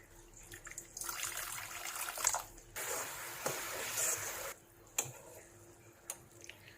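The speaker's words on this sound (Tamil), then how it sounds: "இதுல இப்போ கொஞ்சம் கூட நான் தண்ணி சேர்க்கிறேன்." Water pours into a pan of Kerala-style ginger curry, a soft splashing rush in a few bursts separated by quieter pauses, with light clicks and clatter around it.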